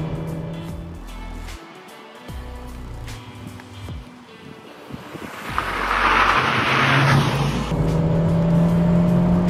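Seat Leon FR hatchback with a 1.5 TSI 110 kW engine and six-speed manual, heard from inside while driving, engine note rising steadily under wind and road noise and growing louder toward the end.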